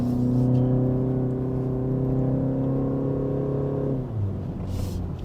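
A 2023 BMW 330i LCI drives in second gear on a wet, slippery mountain road at Genting, its engine holding a steady harmonic drone that drops in pitch near the end as the driver eases off.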